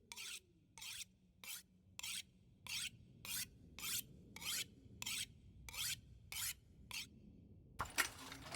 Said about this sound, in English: Technically, the knife would benefit from sharpening as well.